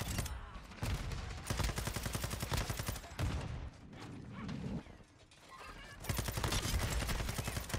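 Rapid sustained LMG fire in Modern Warfare 2 on the Shipment map, with long dense bursts of rattling shots broken by brief pauses and mechanical clatter, loud and close, with no speech.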